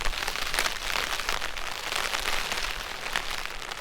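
Steady rain patters densely on a bivvy shelter at a camp, a close, even hiss of drops with no voices.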